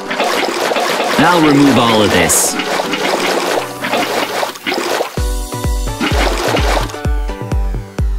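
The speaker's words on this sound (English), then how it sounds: "I'll use a bucket to remove it" In a cartoonish village decorating game, a bucket scoops foul water out of a well with splashy sloshing bursts. A person talks over it, and plinking game sounds follow.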